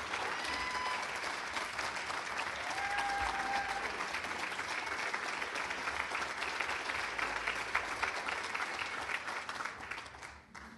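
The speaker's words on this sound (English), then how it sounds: "Would you give him a great round of applause?" Sustained audience applause fills an awards gala hall, a dense even clatter of many hands clapping steadily for about ten seconds before starting to thin at the end.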